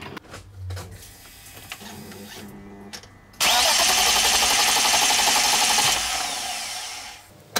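A BMW 5 Series E39 engine cranks and fires up after a fuel filter change, following a few faint clicks and knocks; the starter whine turns into a loud, steady idle that fades off near the end.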